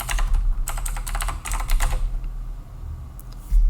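Quick bursts of typing on a computer keyboard as a username and password are entered, with a rapid run of close clicks, a short pause, then a few more scattered keystrokes.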